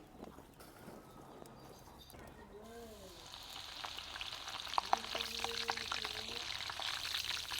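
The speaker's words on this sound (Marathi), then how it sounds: "आता आपण मिरच्या तळून घेऊ" Green chilies fry in hot oil with a steady broadband sizzle that builds louder over several seconds, a few brief utensil clinks and faint tonal chirps rising near the end.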